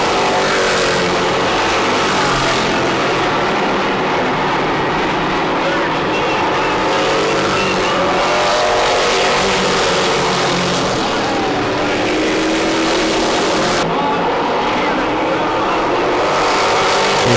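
Race cars roar past loud and continuous near the end of a New England oval race, with engine drone layered over constant crowd and track noise for a long stretch.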